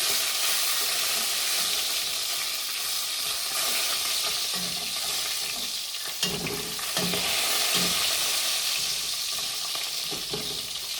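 Ingredients for German Sauerbraten brown in a hot pan, giving a steady close sizzle and frying hiss with occasional stirring scrapes and clinks.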